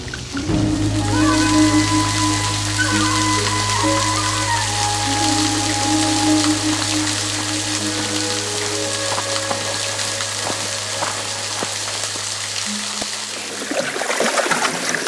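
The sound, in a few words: waterfall near a jungle camp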